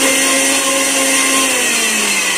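An electric kitchen mixer blending ice, sugar and water for lemon juice, a loud continuous high whir that holds steady and sinks slightly in pitch toward the end.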